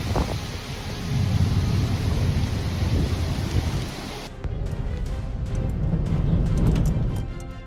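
Loud, roaring storm with fierce hurricane-force winds, heavy rumbling gusts and rain noise, continuous and turbulent, with a sharp cut midway into another stretch of blustery roaring.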